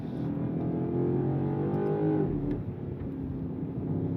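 Engine of a 2025 BMW M5 with an 8-speed automatic in manual mode, a steady droning pull that climbs in pitch, then a quick upshift that drops the tone before it builds again, heard from inside the cabin.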